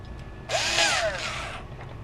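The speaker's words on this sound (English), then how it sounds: "I'm drilling the motor pods and machining them" A power drill bores into motor pods clamped in a vise for a speeder frame build. One close, whining burst lasts about a second, with a falling pitch, and quiet stretches come before and after.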